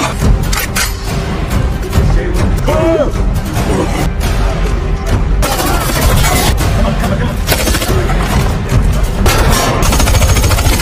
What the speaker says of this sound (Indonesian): tiba-tiba Bullet muncul dari belakang dan dengan tegas menembak mereka tanpa ampun